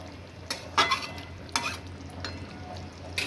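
A spoon gently stirs pointed gourd in a curd gravy, making a few soft scrapes and clinks against the pan over a quiet simmer, with brief separated bursts and no talking.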